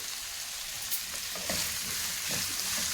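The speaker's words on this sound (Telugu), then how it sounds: "ఒక హాఫ్ వరకు ఫ్రై అవ్వాలి కొంచెం పెద్ద మంట పెట్టుకొని" Cucumber pieces with turmeric and salt frying in oil over a high flame for chutney, a steady close sizzle with soft stirring scrapes and no talk.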